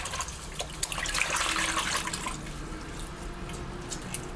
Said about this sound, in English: rinse it with fresh water